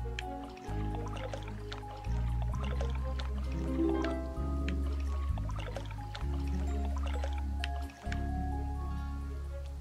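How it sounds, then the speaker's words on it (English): Watering a flower in the PlayStation TV game Home, heard as a string of wet drips and squishy pours over a steady low background drone, moderately loud with no talking. "It's time to water it."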